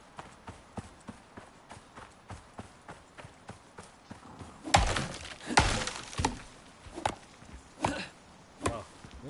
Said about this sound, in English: Let's chop a tree down.